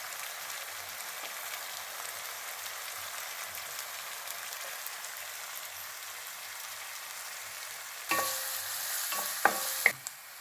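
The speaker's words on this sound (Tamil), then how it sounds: "அப்புறம் அடுத்து இஞ்சி பூண்டு விழுது. அதே நல்லா பச்சை வாசனை போக நல்லா வதக்கிடணும்" Ginger garlic paste frying in a pan for rajma masala gives a soft, even hiss, then a louder burst of sizzling and a few close stirring clatters at the end.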